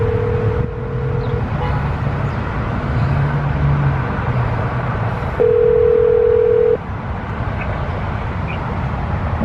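Phone dialing tones from a voice-command call on a 2017 Harley-Davidson Road Glide Ultra: two steady electronic ringback beeps, one near the start and one later, over a constant low engine and road rumble.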